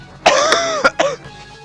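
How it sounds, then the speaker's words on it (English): A single harsh cough followed by two short throat clearings, close and fairly loud, with a brief pause between bursts. "I'm gonna cough 1 second, hold on."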